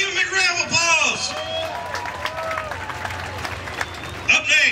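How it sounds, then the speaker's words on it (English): Applause and crowd noise from spectators at a county fair Power Wheels rock crawler event, steady clapping and babble with an announcer talking over it. "Everybody give him a round of applause."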